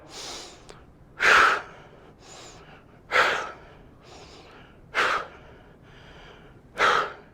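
A person breathes forcefully during an arm exercise, with four strong, evenly spaced exhales about every two seconds and softer inhales between them, close and with no talk.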